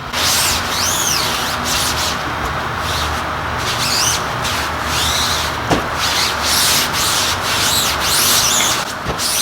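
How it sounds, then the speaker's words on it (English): A squeegee or scraper drags repeatedly across a screen printing screen to lift off excess ink during a colour change on press, producing rhythmic rasping scrapes and squeaky rubbing strokes, close and loud with no talking. "You can see there's quite a bit of ink coming up. You can only scrape out so much."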